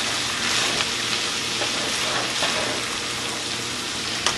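Onions and green peppers for Philly cheesesteak fry in a hot pan, giving a steady, close crackling sizzle that runs without a break, with a few brief louder pops and no voices.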